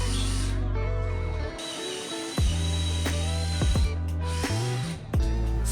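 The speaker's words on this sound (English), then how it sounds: "Carefully use your drill to prepare the holes to fasten your mounting plate to the wall." Power drill boring pilot holes into a wall for a digital signage mount, a steady loud whir with several short bursts and stops, with sharp starts and cutoffs, near and alone.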